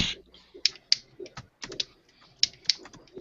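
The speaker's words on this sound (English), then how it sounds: "Somebody's typing," Someone typing on a laptop keyboard, quick irregular clicks and taps close by, faint and alone in a quiet room.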